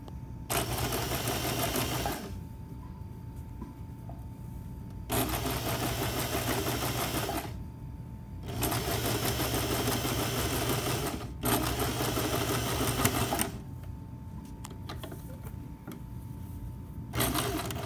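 A sewing machine runs a straight stitch through a skirt made over from a sundress, humming steadily in four bursts of a couple of seconds each, separated by short pauses.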